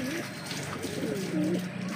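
Pigeons coo softly inside a loft, a few rolling, warbling calls close by against a background of rustling and faint splashing.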